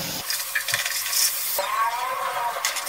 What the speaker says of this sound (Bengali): এবার সব কিছু আর একটু ভালো করে কষিয়ে নিচ্ছি